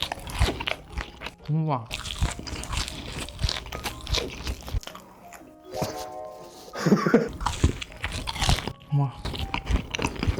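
Crunchy Bburinkle fried foods, such as a seasoned hot dog and cheese sticks, are bitten and chewed up close, with loud crisp crunches in bursts, broken by short spoken exclamations of delight.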